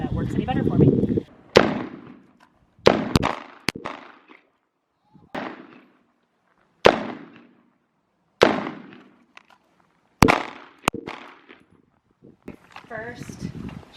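Sharp, loud Glock 19 Gen 5 pistol shots at a shooting practice, about eight irregularly spaced reports with short echoing tails, and a person talking at the start and the end.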